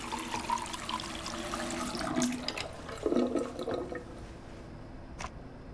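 A tap runs with a steady splashing water stream in the video game Life is Strange 2, at a remote gas station, cutting off near the end.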